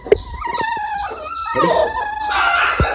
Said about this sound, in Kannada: ಇವಾಗ ಇಲ್ಲೊಂದು ಹಚ್ಚ ಕೋಳಿ ಇದೆ